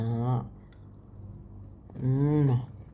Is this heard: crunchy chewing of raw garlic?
yes